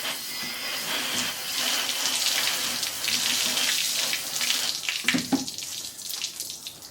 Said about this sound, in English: I like to rinse it off in between, just so that's not sitting on there and pitting it.